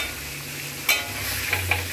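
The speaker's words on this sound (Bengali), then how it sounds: "এবার ফুটন্ত গরম তেলের মধ্যে, সর্ষের তেলের মধ্যে ছেড়ে দিলাম এই মশলাটাকে।" Ground onion, garlic and ginger paste hits hot mustard oil, giving a steady close sizzle with a few sharp spatters and a faint stirring scrape, no voices.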